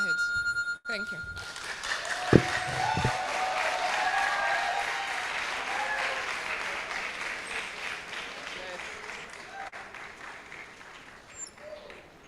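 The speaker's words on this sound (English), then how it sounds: "Another round of applause for her," Sustained applause from an audience at a dentistry event fills the room at steady strength for about ten seconds, then thins slightly toward the end, with a few louder claps and voices mixed in.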